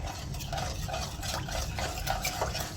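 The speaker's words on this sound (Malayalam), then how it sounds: "നന്നായി മിക്സ് ചെയ്ത് കൊടുക്കുക." A spoon stirring biryani mixture in a pot, giving soft, steady scraping and shuffling strokes, close but fairly quiet and continuous, with no voices.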